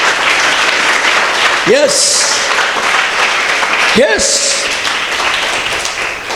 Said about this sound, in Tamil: கைத்தட்டி ஆண்டவருக்கு ஸ்தோத்திரம் பண்ண.